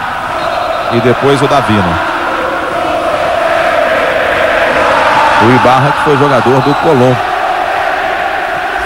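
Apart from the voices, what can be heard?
football stadium crowd of Colón fans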